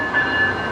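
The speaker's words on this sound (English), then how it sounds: "Brightline is pulling away from Orlando International Airport, heading right for Miami." A Brightline passenger train pulls away from Orlando International Airport, giving a steady, loud rolling rumble with a faint sustained tone and no voices.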